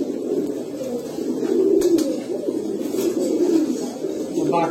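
A male pigeon coos steadily and close by, a soft repeated low warble running throughout amid a pigeon loft.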